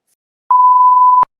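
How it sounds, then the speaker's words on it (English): A single clean electronic beep, steady in pitch and lasting under a second, sounding alone against silence. "heard the beep"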